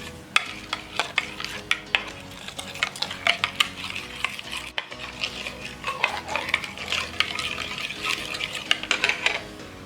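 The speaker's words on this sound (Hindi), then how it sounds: "दही ले लिया, इसमें नमक और मिर्च डाल देंगे और अच्छे से इसे मिक्स कर लेंगे" A spoon scrapes and clinks against a bowl while yogurt is stirred with salt and chili powder, producing irregular tapping and soft wet mixing sounds, close and fairly quiet.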